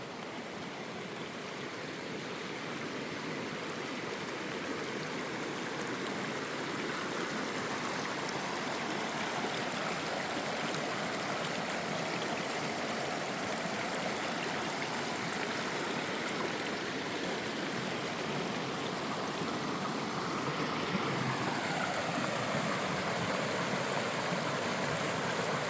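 A stream at a Colorado campsite flows steadily, a full broadband rushing of water that stays constant and close throughout with no voices.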